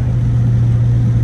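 A 900-horsepower Dodge Hellcat engine runs loud and close, a steady low drone with a sustained tonal whine from the intake, no voices.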